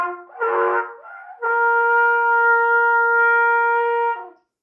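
A trumpet plays its open C: a short scooping attempt, then a steady, bright held note of roughly three seconds that cuts off cleanly, heard alone and close up.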